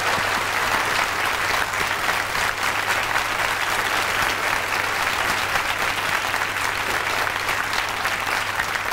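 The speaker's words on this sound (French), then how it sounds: "Je vous demande d'applaudir Simone Valère et Jean de Sailly." Audience applause on a French television variety show, broad sustained clapping from a large crowd, loud and even for the whole stretch with no voices over it.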